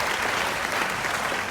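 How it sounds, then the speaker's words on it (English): An audience applauding at a supervisor training event, a dense, steady wash of clapping from many hands throughout, with no break. "Let's have a round of applause for all the leadership and the people that contributed to making this event happen"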